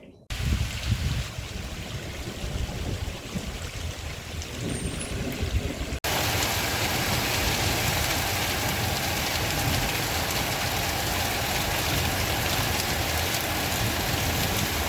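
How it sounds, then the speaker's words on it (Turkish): Heavy rain falls in a village on the Koramaz Valley trail as a dense, steady hiss. The rain gets louder and more uniform partway through and keeps pouring without a break. "Vekse'ye girerken yağmur şiddetini artırdı"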